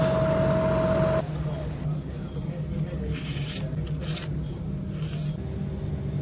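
An end mill cuts hard material on a lathe while coolant is applied on top: a loud, rasping grind for about a second, then a quieter steady mechanical hum with faint scraping.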